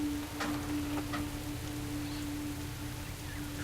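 Rain falls in the World of Warcraft video game as a steady, even hiss of drops that stays constant throughout, with a faint ticking layer and a low background hum.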